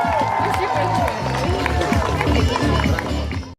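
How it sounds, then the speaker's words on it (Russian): An audience at a children's summer camp award ceremony gives sustained applause and ovation, dense clapping and crowd noise filling the room before stopping abruptly. "Так что овации не смолкали долго."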